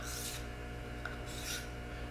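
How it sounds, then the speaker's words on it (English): A Green River knife drawn across a leather strop backed with high grit sandpaper gives two raspy strokes about a second apart, close and soft. "I just have a leather strop with some high grit sandpaper on the back"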